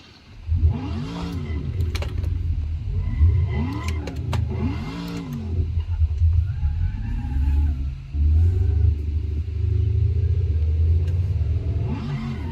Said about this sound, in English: Oh, we got an almost successful drift there.